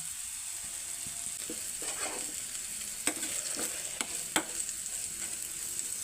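Bitter gourd stir-frying in a pan makes a continuous bright sizzle, broken by intermittent scraping clicks of a spatula stirring the pieces at close range.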